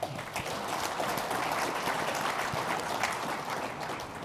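A conference audience applauding at an investor panel: a steady, dense patter of many hands clapping at moderate distance, sustained evenly throughout with no speech over it.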